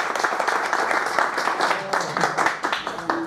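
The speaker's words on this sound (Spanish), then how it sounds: "¡Aplausos, Rabotai! ¡Aplausos!" Audience applause at a Jewish religious class before the Shabbos Project, dense steady clapping close up with some voices mixed in, sustained for the full stretch.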